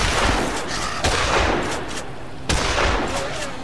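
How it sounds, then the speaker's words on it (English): A shotgun fired in the zombie game Dead Island, two loud, sharp blasts about a second and a half apart over a constant noisy game background. "I'll try out my shotgun."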